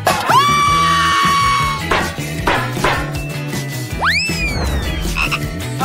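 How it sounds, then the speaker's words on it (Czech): A frog croaking in loud, stretched calls close by, with bright rising and falling squawks, part of a playful chocolate fountain challenge. "já teď chápu, že já mám pod podkličkou určitě opravdovou žábu"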